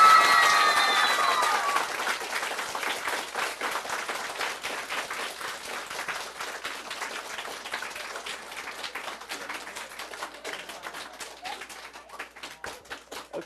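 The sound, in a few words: audience applause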